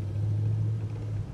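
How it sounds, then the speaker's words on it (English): A 1966 Pontiac GTO V8 idles with a steady, loud low rumble and a strong constant hum, close by and without speech. "The sound of the engine is just magnificent on this."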